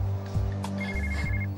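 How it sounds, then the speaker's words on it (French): A telephone rings in a French TV drama scene, a steady electronic ringtone sounding alone and fairly close over a low background hum. "le téléphone de Clara se met à sonner."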